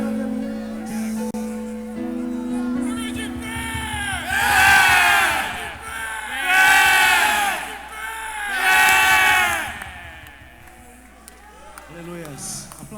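A church congregation at a men's anniversary service claps and cheers, with loud waves of shouting and applause rising and falling three times, mixed with voices and a preacher speaking.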